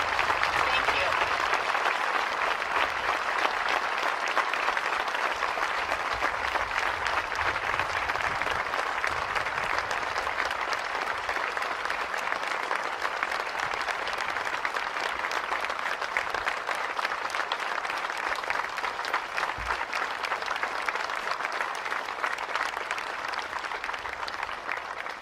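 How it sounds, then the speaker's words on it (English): Sustained applause and cheering from an outdoor audience at a university healing garden dedication ceremony, steady and dense for the whole stretch with no let-up. "get a round of applause and some cheers from you all"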